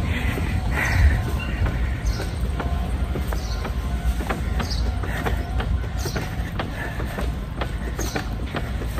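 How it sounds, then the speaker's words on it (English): Ride on a train heading to Osaka, Japan, with a steady rumble of the carriage and rhythmic rail clicks throughout, continuous and fairly loud, with no talk. "So now I'm gonna ride the train."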